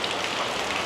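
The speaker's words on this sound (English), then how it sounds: "just been so heavy, the rain." Heavy rain pours down on a Bangkok street market as a steady, close hiss of drops striking surfaces, with no pauses.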